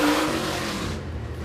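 A Super Late Model race car on a qualifying lap at Eriez Speedway roars past at full throttle, loud and close, its engine note fading slightly as it moves away.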